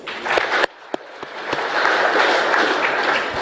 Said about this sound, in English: can we give a clap to ourselves?